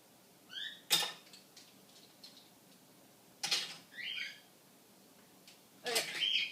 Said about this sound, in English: I need to go grab my measuring spoons